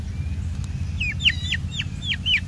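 Free-roaming chickens and roosters, including a young black rooster, let out a run of short, sharp, repeated clucks and chirps over a steady low rumble, with no one speaking.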